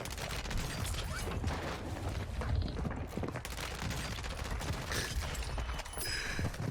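Dense, continuous gunfire in the shooter Warzone 2, with rapid overlapping shots and mechanical clatter filling the whole stretch at a steady, busy level and no pause or voice.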